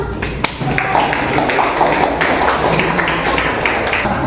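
A short burst of students clapping in a classroom, beginning with a couple of sharp isolated claps before a quick, moderately loud patter of many hands.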